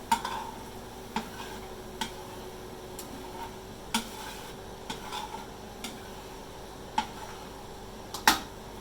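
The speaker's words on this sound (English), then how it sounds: "Boil it down until it thickens." A pan sauce of fresh green peppercorns for steak au poivre bubbles and reduces, giving a soft steady sizzle and low hum, broken by occasional sharp clicks and taps of a utensil against the pan.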